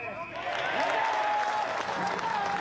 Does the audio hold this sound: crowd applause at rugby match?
yes